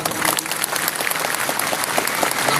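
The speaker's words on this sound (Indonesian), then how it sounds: "Tepuk tangan Pak Bobi." Audience applause at an evening event in Deli Serdang, Medan, North Sumatra, attended by officials; dense, steady clapping from many hands fills the whole stretch at close range, with no voices over it.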